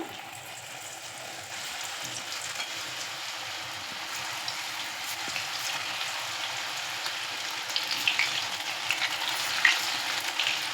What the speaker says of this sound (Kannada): ಈಗ ಬಾಂಡ್ಲಿಲಿ ಎಣ್ಣೆ ಇಟ್ಟಿದ್ದೀನಿ ಎಣ್ಣೆ ಕೂಡ ಕಾದಿದೆ ಈಗ ಒಂದೊಂದಾಗಿ ಹಿಂಗೆ ಹಾಕ್ಕೋಬೇಕು